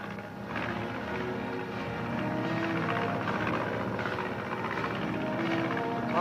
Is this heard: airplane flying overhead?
yes